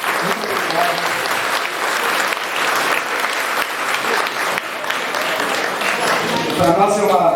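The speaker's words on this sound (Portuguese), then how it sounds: "Uma salva de palmas." An event audience gives a warm round of applause for an embassy representative, sustained and full throughout, with a voice speaking over it near the end.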